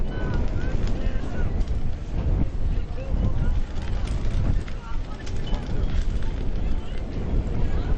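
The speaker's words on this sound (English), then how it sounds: "Pretty stiff wind blowing from" Stiff wind gusting across an outdoor field during a nighttime girls' varsity high school soccer game, a steady broadband roar that buffets the microphone throughout, with faint speech underneath.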